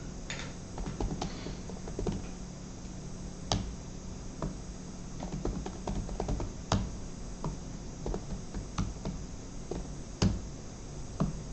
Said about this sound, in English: I can try typing something